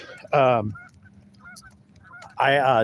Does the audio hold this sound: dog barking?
no